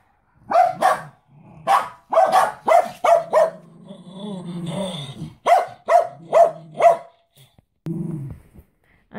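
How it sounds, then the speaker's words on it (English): Dogs bark repeatedly and sharply in quick irregular bursts, close by, with a short pause of lower growling in between. "because the dogs won't stop barking."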